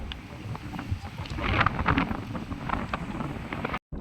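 Strong wind in rocky terrain at Banff buffets the microphone throughout, a steady roaring rush with gusts swelling in the middle, briefly cutting out near the end.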